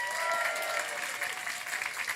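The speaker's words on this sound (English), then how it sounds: "Give them a round of applause." A crowd at an indie game awards show claps in steady, continuous applause, full and even throughout the short stretch.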